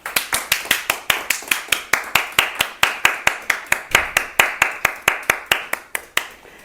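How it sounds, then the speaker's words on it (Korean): A class gives a round of rhythmic, evenly spaced clapping, about thirty sharp claps in a steady beat that stops abruptly, close and fairly loud with no talking. "박수 한번 주시죠."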